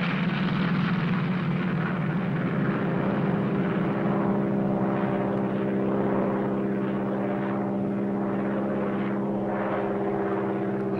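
A propeller airplane engine drones steadily in flight, a constant loud, low-pitched hum with a pulsing throb that fills the whole stretch, no voices over it.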